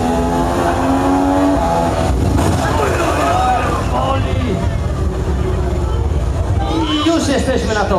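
A car accelerates hard on a race track, its engine note rising and shifting at close range with some tire noise, while someone talks excitedly over the engine throughout.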